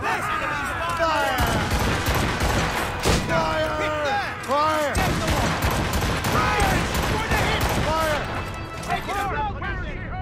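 Naval battle in Assassin's Creed Rogue, with repeated booming cannon volleys and crackling gunfire that roll on continuously, while crew voices shout orders loudly over the barrage.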